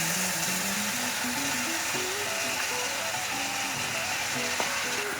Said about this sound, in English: So we saute the onions.